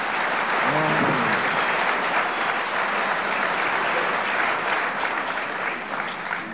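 Studio audience applauds on a German television talk show as a guest steps onto the stage: loud, dense, continuous clapping that fills the whole stretch and fades only slightly at the end.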